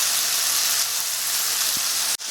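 Chicken escalope sizzling steadily in a hot wok, a dense, even frying hiss that continues throughout with no pauses and cuts off briefly just before the end.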